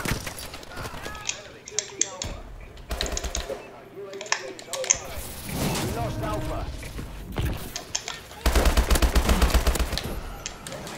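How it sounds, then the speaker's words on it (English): Automatic sentry gun firing in Call of Duty: Advanced Warfare multiplayer, loud rapid bursts of gunfire that come and go, with a sustained stretch of fire near the end, under someone talking. "Okay, I have a sentry gun up top."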